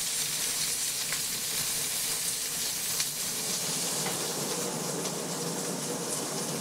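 Bell peppers fry in olive oil in a pan, giving a steady, even sizzle and hiss with faint crackles throughout, moderately quiet and without voices.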